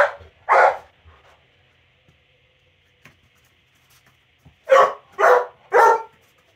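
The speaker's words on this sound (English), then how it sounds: "Why are you barking at me?" A dog barks once, then after a pause lets out three quick loud barks in a row, close by.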